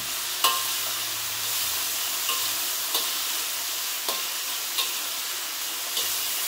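Cuttlefish and pakia frying in a pan with chili, a steady close sizzle with periodic clicks and scrapes of stirring.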